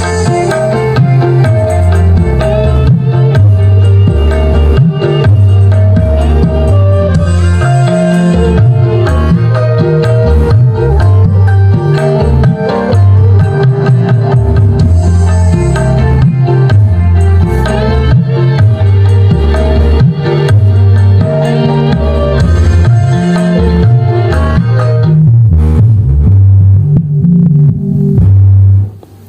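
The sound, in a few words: subwoofer playing bass through filter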